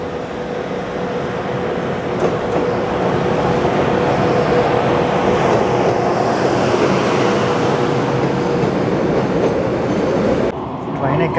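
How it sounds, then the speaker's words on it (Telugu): A goods train passes through a station in Japan, its steady loud rumble and wheel clatter filling the scene before cutting off abruptly near the end. "ఓకే, ఇది మన ట్రైన్ కాదు కానీ గూడ్స్ అన్నమాట. ఇది చూసారా ఎలా ఉందో, గూడ్స్ ట్రైన్."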